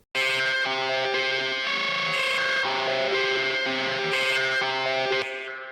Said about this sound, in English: I used Filter Freak from Sound Toys.